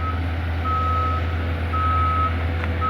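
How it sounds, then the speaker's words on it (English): Reversing beeps from a large snorkel lift truck on a town street, a steady series of loud tones over a constant low engine rumble. "That's a big old snorkel lift."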